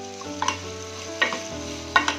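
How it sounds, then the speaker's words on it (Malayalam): Onions sautéing in a pan for a Kerala Christmas palappam and malai chicken meal, giving a steady low sizzle with a few scraping stirs, close and alone with no talk. "സബോളയൊക്കെ ഒരു നമുക്ക് വേണ്ട പരുവത്തിൽ വഴുതിട്ടുണ്ട്"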